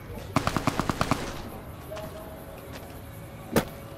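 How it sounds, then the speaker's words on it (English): Gunfire in the video game Fallout New Vegas: a rapid burst of about seven automatic shots rattles out, followed by quieter ambience and one later isolated bang, with no voice over it. "Who is shooting?"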